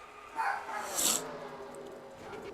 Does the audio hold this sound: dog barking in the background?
yes